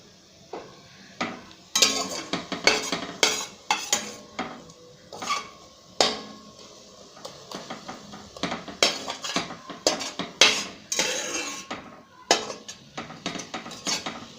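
A spoon stirs homemade coconut hair oil in a pot as the water cooks off, with repeated metallic clinks and scrapes against the pot in uneven bursts and short pauses between.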